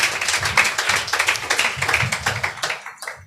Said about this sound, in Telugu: చప్పట్లు కొట్టి ప్రభువును ఘనపరచుదము గాక